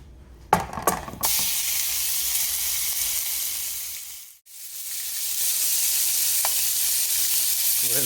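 Beef hits a smoking-hot pan with a few quick clatters, then settles into a loud, steady frying sizzle that dips briefly in the middle before the hiss returns at full strength.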